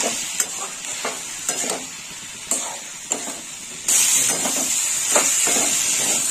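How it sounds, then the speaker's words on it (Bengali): Drumstick flowers frying with mustard paste in a pan, a steady sizzle and hiss with repeated stirring scrapes, growing louder and harsher about two-thirds through. "এইভাবে ভেজে নিতে হবে সজনে ফুলটাকে।"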